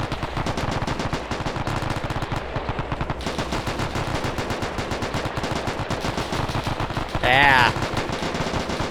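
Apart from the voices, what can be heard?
Browning machine guns firing back, video game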